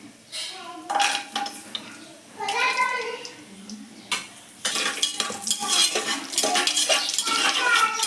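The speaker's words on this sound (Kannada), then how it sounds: "ಈಗ ಇದು ಬಾದಾಮಿ ಗೋಡಂಬಿ ಹಾಕೋತಾ ಇದ್ದೀನಿ" Almonds and cashews go into a cooking pan for hotel-style dill pulao, with clattering, scraping, and stirring against the metal pan under a sizzling background, fairly close and loud, while a person talks over it.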